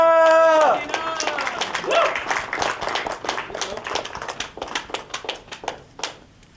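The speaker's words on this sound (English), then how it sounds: "Round of applause for Christina" Audience at a poetry slam applauding the last poet of the night, a quick burst of sustained clapping that thins into separate, spaced claps toward the end, following a brief tonal sound at the start.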